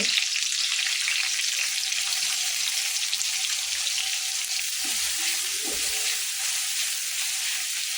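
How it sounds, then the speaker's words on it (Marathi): Chili, garlic and ginger masala paste fries in a pan for vada pav with a steady, loud, continuous sizzling hiss throughout, close up and without speech. "हा मिरची मसाला एकसारखा आपला भाजतो"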